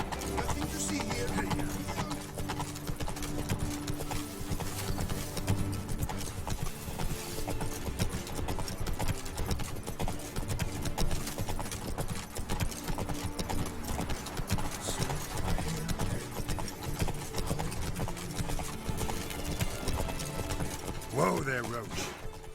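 Roach, a horse in The Witcher 3 Blood and Wine, trots with steady, continuous hoof clip-clops over a dense bed of game music and ambience that runs throughout.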